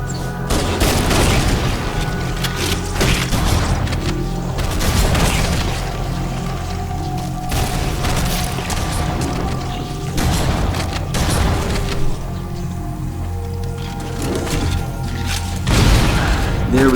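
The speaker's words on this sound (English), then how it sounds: "That's a hell of a weapon. But you don't want to fire it too close." Weapon fire in the video game Halo: Combat Evolved, several heavy booming blasts and bursts spaced irregularly across the stretch, loud and punchy over a constant bed of game ambience.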